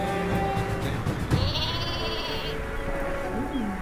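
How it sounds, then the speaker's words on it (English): Cartoonish sheep bleats from the super sheep weapon in the video game Worms W.M.D, a couple of wavering calls over steady game background sound and music, close and clear. "I'm gonna go for my own super sheep."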